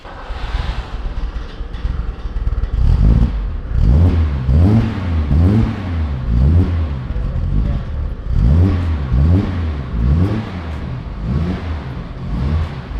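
A Mercedes W108 engine starts and revs close by, repeated rising and falling throttle blips forming a steady rhythmic pattern of loud, rough mid-range roars with no talking.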